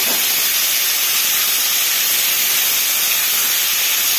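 Pumpkin and potatoes hit a hot pan of garlic and onion for a dried fish curry, setting off a loud, steady, unbroken hiss of sizzling that fills the whole stretch.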